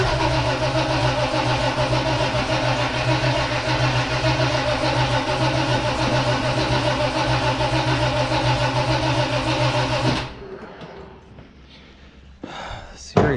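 A 1969 Chevrolet Nova's starter cranks the engine loudly and steadily for about ten seconds without catching, then cuts off, leaving quiet with a few brief knocks and a voice near the end.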